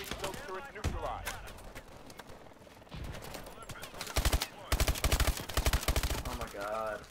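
Rapid automatic gunfire bursts crackle in Call of Duty: Advanced Warfare, growing denser toward the end amid game voices and a person talking over the action.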